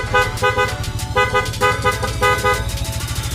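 A Yamaha NMAX V2 motor scooter horn honks weakly in a series of short, repeated beeps over a steady idling engine, close by and fairly loud.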